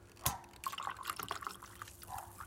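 Descaling solution tipped from a bottle into a jug of hot water, giving a short liquid splash and trickle with small drips, close and fairly quiet, with no talking.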